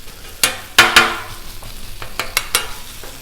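Thanksgiving leftovers sizzle on a hot Blackstone griddle while a metal spatula scrapes and taps across the surface in a few sharp, close strokes over a constant frying hiss.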